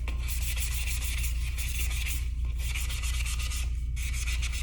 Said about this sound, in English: I'm just gonna do a quick sanding, nothing special